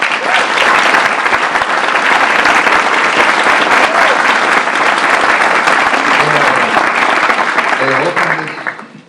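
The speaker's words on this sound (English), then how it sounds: "please, and give them a round of applause" A hall audience at a U.S. congressional hearing applauds the mayor and city council, sustained loud clapping for about eight seconds before fading out, with faint voices at the end.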